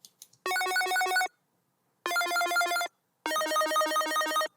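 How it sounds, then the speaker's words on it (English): Bright synth chords from a Chordsmokers Serum preset play in three sustained bursts separated by short gaps, sounding loud and layered, with no voices. "Now this is a Serum patch, and it is actually a preset from Chordsmokers for Serum"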